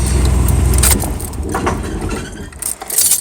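A 1978 El Camino's engine idling high, a loud low rumble close by for the first second, then fading under clinks that sound like jangling keys and handling noises, with no one talking.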